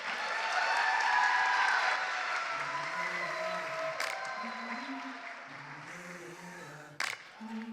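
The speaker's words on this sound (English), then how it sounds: "please give them a big round of applause" Crowd applauding dancers at a live event, a broad clapping wash that gradually thins as a sung melody with music rises and carries on over it.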